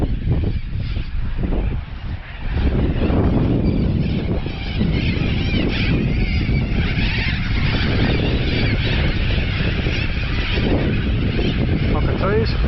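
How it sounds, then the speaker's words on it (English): A large flock of cockatoos screeching outdoors in open country near a warren of rabbit holes, harsh overlapping calls filling the whole stretch loudly and continuously, with wind buffeting the microphone. "Cockatoos."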